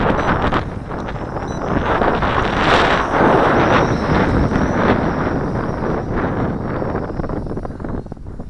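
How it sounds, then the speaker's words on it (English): Gusty wind buffets the microphone outdoors while an MJX X400 quadcopter drone flies on a windy day, a steady loud rushing roar that rises and falls slightly with each gust, no clear voice over it. "Okay, the wind's picking up a bit."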